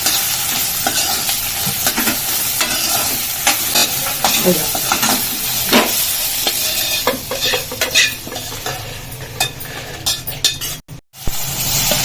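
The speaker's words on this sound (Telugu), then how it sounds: "ఎండుమిర్చి కొంచెం కొంచెం వేగిన తర్వాత ఏదో వేడి అయ్యేటట్టు కొబ్బరి ముక్కలు అందులో వేసేసి కొంచెం వేడి చేస్తే సరిపోతుంది" Dry red chillies and coconut pieces fry in a pan at home, a loud continuous sizzle with frequent scraping and clinks of a spoon stirring, ending in a brief pause.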